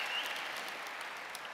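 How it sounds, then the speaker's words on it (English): A theatre audience at a Sydney writers' festival interview event applauds steadily, a dense, even wash of clapping throughout with no voices on top. "Got an even bigger round of applause than me."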